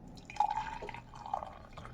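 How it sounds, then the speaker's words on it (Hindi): Hot water from a kettle is poured into a cup for green tea, a faint, soft trickle with light dripping and gurgling tones. "तो मैं डाल दूँगी इसमें पानी"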